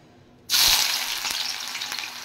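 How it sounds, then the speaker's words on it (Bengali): Thinly sliced onions hit hot oil with a sudden loud sizzle that stays strong and steady as they begin frying, with no talk. "তেল গরম হয়ে গেছে, এদিকে তেল বসিয়ে দিয়েছিলাম। এবার আমি পেঁয়াজগুলো ছেড়ে দেব"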